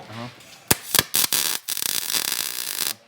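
Tack welding on a Morrvair car part: a few sharp crackling bursts, then a sustained buzzing, spattering arc lasting about a second and a half, close and fairly loud.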